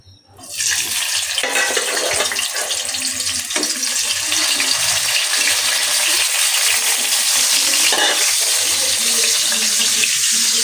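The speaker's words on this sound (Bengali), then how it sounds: "মাছ দুটোকে ভেজে নিব, ভেজে শাক দিয়ে রান্না করব।" Two fish fry in hot oil in a pan, a loud, dense, continuous sizzle that starts abruptly and holds steady for about ten seconds, with faint kitchen clatter beneath and no talking.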